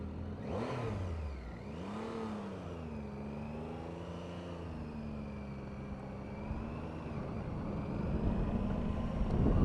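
Triumph Tiger 800 XCx motorcycle engine revving up and down, its pitch sweeping through several rises and falls, close and steady with no talk over it.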